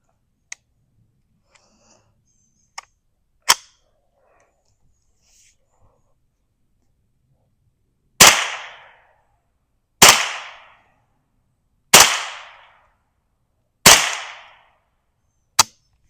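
Four sharp reports from a suppressed Ruger 10/22 with a standard wooden stock, firing CCI Standard Velocity .22 rounds, spaced about two seconds apart, each with a short decaying tail. Fainter clicks come before them and a last small snap follows, with no talk.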